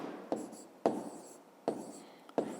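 Pen or pencil writing by hand on paper during a 5th-grade maths exercise, four short scratchy strokes in a loose rhythm, each starting with a sharp tap and trailing off, close and fairly quiet.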